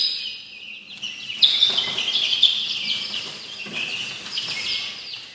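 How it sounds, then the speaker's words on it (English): Baby Bourbon Red heritage turkey poults chirp in thin, high, continuous peeping, close and moderately loud, with faint background noise. "we have these little turkey babies"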